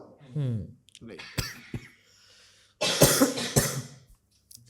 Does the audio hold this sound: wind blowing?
no